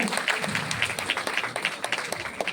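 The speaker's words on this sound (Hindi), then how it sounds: "तो एक बार विभाग के लिए जोरदार ताली तो बनती है।" An audience at a teachers' school-readiness event applauds steadily, a fairly faint, even patter of many hands clapping throughout with no talk over it.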